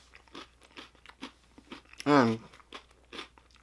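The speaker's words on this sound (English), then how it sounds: "I like the way those taste, but they really are too crunchy for making videos" A single loud, close crunch of a crunchy snack being bitten, breaking through a stretch of quiet chewing and mouth sounds.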